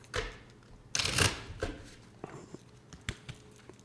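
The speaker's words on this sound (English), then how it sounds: "This needs one shuffle" A tarot deck being shuffled up close: one quick riffle burst followed by soft taps and clicks as the deck is squared.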